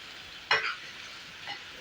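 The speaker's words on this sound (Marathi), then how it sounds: "ह्याच्यावर फोडणी घालूया" A sudden burst of sizzling as hot oil tempering is poured over crushed onion and tomato chutney, loud for a moment then settling into a softer hiss, with a second brief crackle.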